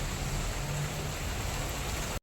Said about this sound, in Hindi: इतनी ज़ोर से बारिश हो रही है और हवा चल रही है